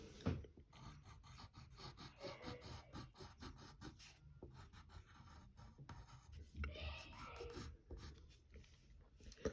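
Pencil sketching on paper while drawing a cartoon Road Runner: soft, close scratching strokes in short irregular bursts, quiet throughout.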